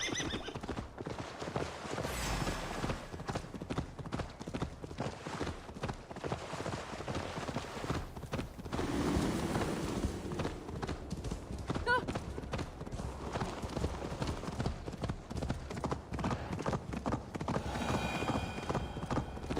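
Rhythmic horse hooves clip-clopping alongside repeated neighing and whinnying in the Assassin's Creed Valhalla video game, with game music and character voices talking over the galloping.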